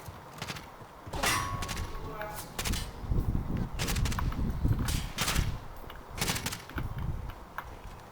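Call of Duty Warzone gunfire bursts out as sharp, metallic cracks and short volleys spread irregularly over several seconds, mixed with rumbling impacts while players talk under and between the shots.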